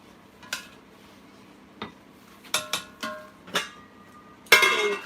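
A lid set down on a pot of simmering stew, heard as a handful of sharp, close metallic clanks spaced apart, ending with a louder clatter and brief rattle.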